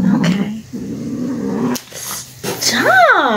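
A cat growls in a greenhouse, low and rumbling, with another short yowl near the end, while someone talks nearby.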